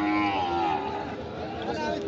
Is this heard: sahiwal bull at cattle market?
yes